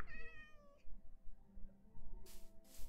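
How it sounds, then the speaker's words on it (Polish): Cats in the Minecraft video game meow in an abandoned village, a few short, clear meows in quick succession followed by a brief burst of game noise, with no speech. "Kotki."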